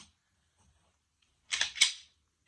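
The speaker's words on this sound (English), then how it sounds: "listen to how smooth this slide racks" The slide of a Glock 34 Gen 3 pistol with a ported top and a tungsten guide rod being racked: two quick, crisp metallic snaps close together, close by in a quiet room.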